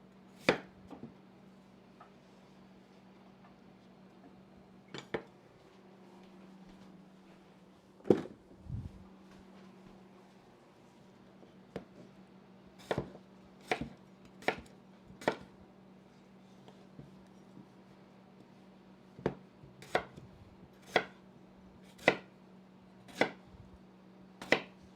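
Knife chopping potatoes on a cutting board, sparse sharp knocks at first, then a quicker regular series of crisp chops near the end, close and clear over a low steady hum.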